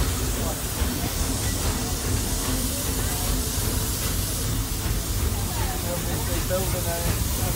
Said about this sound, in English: There are some who say that this steam train is a little old-fashioned for me.